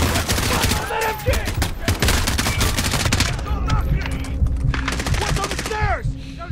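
Rapid bursts of machine gun fire in a Call of Duty Modern Warfare campaign battle, loud and dense with overlapping shots, shouted voices and explosions throughout.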